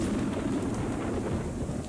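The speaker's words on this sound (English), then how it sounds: "Just wish it would stop raining!" Steady, dense rain with low rumbling thunder fills a stormy scene in the StarCraft video game, a continuous wash of noise from start to finish with no voices.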